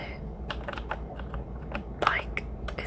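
Keys tapped on a plain computer keyboard at a desk, a run of light, irregular clicks close to the microphone with a brighter cluster of strokes partway through.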